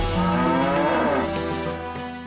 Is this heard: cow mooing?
yes